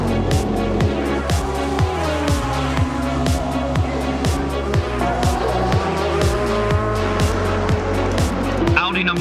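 Audi and Toyota race cars at the Le Mans 24 Hours roar past in repeated engine surges with gear shifts, loud and close, under a commentator's voice.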